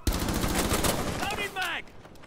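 Gunfire in the tactical shooter Rainbow Six: Siege on the Consulate map, a sharp loud shot followed by dense rattling fire with a short whining tail near the end, no talk.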